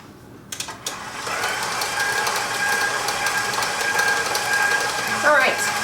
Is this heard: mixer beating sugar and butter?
yes